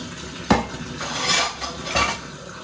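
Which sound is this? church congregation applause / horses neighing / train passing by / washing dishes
washing dishes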